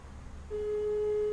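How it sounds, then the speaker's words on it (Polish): Telephone busy signal on an unanswered call, a steady tone that begins partway through and holds clearly to the end after a brief quiet stretch. "telefon mój nie dzwoni, nie ma nikogo zwyczajnie, a komunikat mam, że zajęty"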